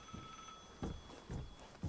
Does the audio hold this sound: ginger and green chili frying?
no